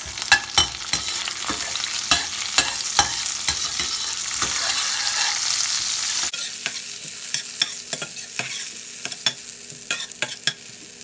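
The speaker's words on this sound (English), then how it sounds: "So the butter is melted, and let's add these spices. Give it a mix." Spices are stirred into melted butter in a pan, a soft sizzle underneath as a spoon clacks and scrapes against the pan in repeated sharp knocks, steady throughout, with no talk.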